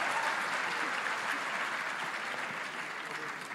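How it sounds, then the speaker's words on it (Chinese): At a university debate final, an audience applauds the skilled questioners. The clapping is dense and sustained from a large crowd and fades slightly toward the end. "所以给我们这些很厉害咨询的高手一个掌声哦"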